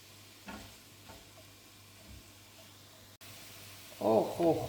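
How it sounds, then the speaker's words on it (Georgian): Carrots and onions frying in a pan, with soft stirring scrapes and a low background hum at first, then a loud, crackling sizzle that swells over the final second. "ახლა კარგზე შევწვათ სტაფილო, ბურგავი და ხახვი"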